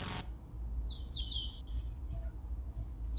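A bird gives a few short, high chirps in quick succession, faint and at some distance over a low, steady background hum.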